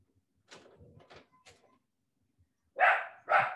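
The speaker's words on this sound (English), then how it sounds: "the dog wants out of the room." An indoor dog wanting out of the room gives two loud, close barks after some quieter scraping and knocking at a door.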